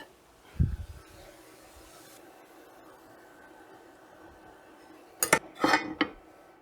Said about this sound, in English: add the eggs, mix them really well, and make sure the eggs are cooked well